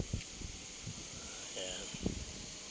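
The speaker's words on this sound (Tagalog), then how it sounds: "ang lakas yung hangin yan" Strong wind roars and buffets the microphone during a test flight of a DJI Mavic Pro drone outdoors, a steady rushing noise with gusty bumps and a voice faintly mixed in.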